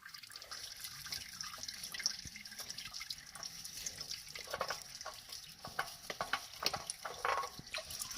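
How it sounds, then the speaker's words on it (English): Motor oil leaking and dripping from a loosened oil filter on a Nissan Altima during an oil change, a faint continuous trickle with scattered drips and small metallic ticks, no speech. "we can just twist it off the rest of the way, and there she's going to start leaking"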